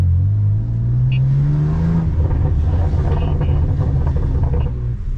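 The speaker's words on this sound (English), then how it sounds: "You're able to hear the burbles a lot more" BMW M4 with exhaust valves open, a loud close engine rev rising in pitch, then a rumbling, crackling burble as the throttle settles.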